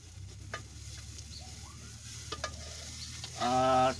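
Tomatoes cook in a pan for sev tameta curry, giving a faint, low sizzle with a few light stirring clicks, then a louder, brief burst of frying near the end.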